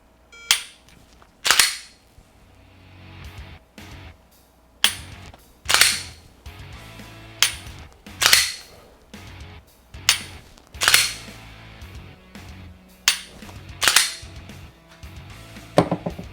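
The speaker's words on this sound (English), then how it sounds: "we're gonna go ahead and do this dry fire" Pistol dry-fire practice: a series of sharp, loud metallic clicks from the trigger, each followed by a slide being racked by hand, repeating about a dozen times at irregular intervals with short pauses between and no talking.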